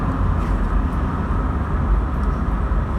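A 1986 Vauxhall Cavalier rounds a roundabout at about 45, giving a steady, loud low-pitched engine and road drone from inside the cabin, with no pauses and no voices.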